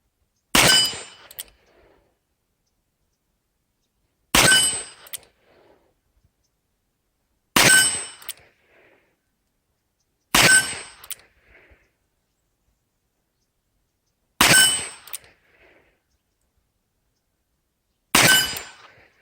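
Colt Python revolver fired single action at a steel plate: six spaced, sharp gunshots, each followed by a ringing metallic clang of the hit and a short decay, with silence between shots.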